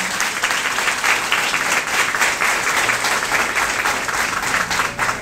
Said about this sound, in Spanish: Démosle un fuerte aplauso a la coordinadora.